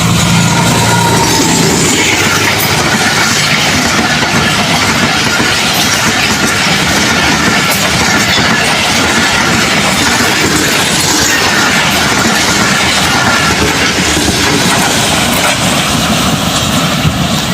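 The Musa Park 115 Up passenger train runs through New Multan railway station without stopping, a loud, sustained roar of engine and rolling wagons that stays steady and close throughout, with no talk.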